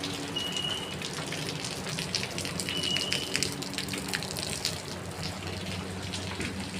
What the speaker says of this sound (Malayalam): നല്ല മഴ കണ്ടോ